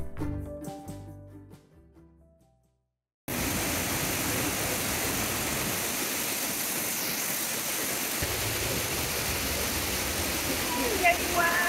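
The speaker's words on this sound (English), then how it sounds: "Crossing under the waterfall here is an awesome experience. The water is thunderingly loud, allowing you to appreciate the full force of nature." A loud waterfall heard from behind the falling water on the Four Falls trail in South Wales, a steady thundering rush after a brief quiet opening.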